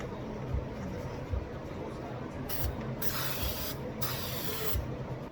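Contact adhesive sprayed from an aerosol can for Hidem, a steady close hiss running the whole time with a few louder bursts as the spray is pressed and released.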